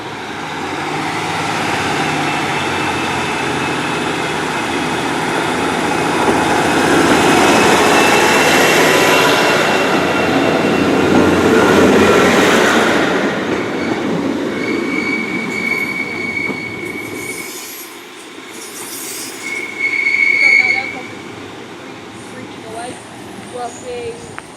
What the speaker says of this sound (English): It's the 1541 Great Western Railway service starting here at Liskeard to Loo.